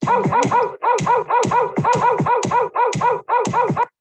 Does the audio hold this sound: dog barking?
yes